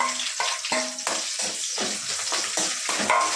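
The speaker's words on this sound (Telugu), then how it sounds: "చిన్నగా కట్ చేసి పెట్టుకున్న ఆనియన్ వేసుకొని ఫ్రై చేసుకుందాం" Chopped onions sizzle in hot oil with curry leaves for a brinjal curry, with repeated scraping stirs breaking the frying hiss in a steady rhythm, close and without talk.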